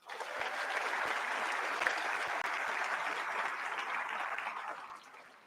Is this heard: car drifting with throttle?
no